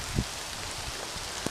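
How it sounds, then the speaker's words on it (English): Rain falling on a wikiup shelter outdoors, a faint, soft, steady patter with a couple of heavier single drops standing out. "See you when it stops raining."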